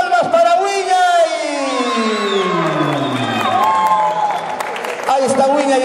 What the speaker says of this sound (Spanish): entonces, palmas para Huillay.